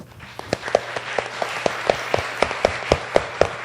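A church congregation clapping for a pastor being introduced during an Easter service: sparse, distinct hand claps land in a steady, fairly even rhythm, moderately loud and close, with no talking over them.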